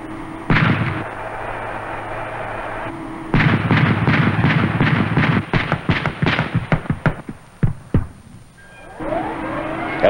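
Bradley fighting vehicle gun firing HE rounds: loud sustained bursts of repeated heavy shots, first a short burst and then a long rapid string that breaks into separate reports, with no talking.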